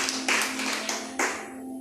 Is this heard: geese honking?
no